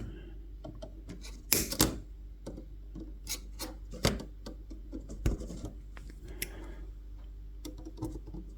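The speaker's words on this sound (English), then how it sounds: "I'm just going to cut some gaps so that we can cut our sleepers out. Just cut some gaps in the webbing." Small cuts through the plastic webbing between the sleepers of a Peco O gauge model railway turnout, heard as scattered dry clicks and rasping snips at close range over a low background hum, with no one talking.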